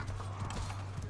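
Horse hooves clip-clop in a medieval MORDHAU battle, a quick continuous run of hoof beats over a steady low hum.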